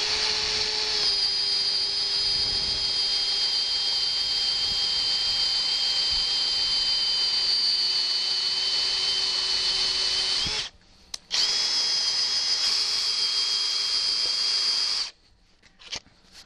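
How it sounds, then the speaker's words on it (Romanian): A Bosch GSR 18V-50 cordless drill on its first gear bores a 16 mm twist bit through a 10 beam, whining steadily and loud for about ten seconds, pausing briefly, then running again before stopping. "Hai să vedem așa cum reușește să găurească prin această grindă de 10."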